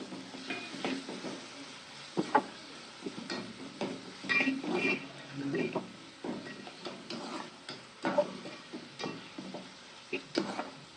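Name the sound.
tomatoes added to hot oil, sizzling and stirring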